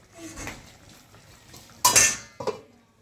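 A lid is set over a pot of fish curry with green chillies and water, producing a sharp metallic clank followed by a smaller second clink, close and loud, after some quieter handling of cookware.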